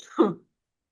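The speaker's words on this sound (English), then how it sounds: "Hopefully stop coughing." One brief, low throat clearing with a slight cough-like push sounds close by, then silence follows.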